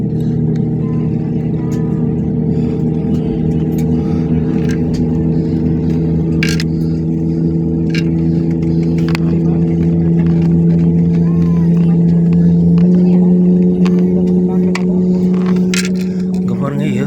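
Airplane engines drone steadily on a runway before takeoff, a loud continuous low hum heard from inside the cabin that swells slightly toward the end, with voices talking over it.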